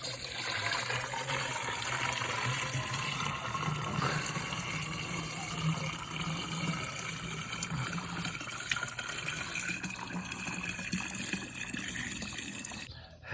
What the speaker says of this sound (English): I'm gonna pour the water into my weed sprayer